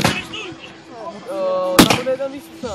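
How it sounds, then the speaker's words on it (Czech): A single sharp, loud gunshot cuts through mid-clip during an outdoor police dog demonstration, amid crowd chatter and voices before and after. "teď bude ukázka se zbraní, takže pozor, bude střelba"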